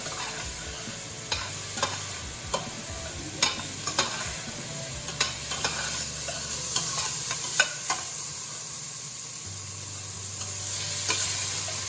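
Soup vegetables cooking in a pot for cauliflower soup and being stirred, a continuous sizzle with regular sharp spoon scrapes and taps at close range, no voices.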